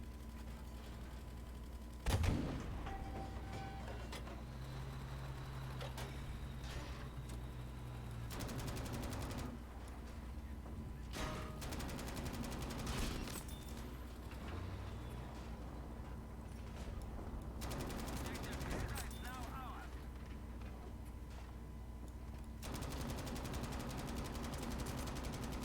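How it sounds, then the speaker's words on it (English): Automatic rifle fire rattles in Battlefield V, with repeated bursts of shots over a steady low background of game noise, mostly faint and distant with one sharper nearby report. "It's automatic rifle time."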